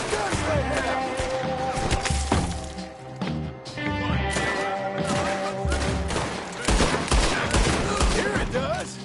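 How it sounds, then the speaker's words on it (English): Dense gunfire from a shootout in the video game Red Dead Redemption 2, loud rapid volleys of overlapping shots with sharp cracks running almost continuously, voices shouting beneath the barrage. "What are those guns they have?"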